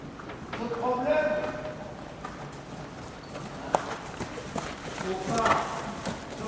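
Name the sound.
horse hooves during a riding lesson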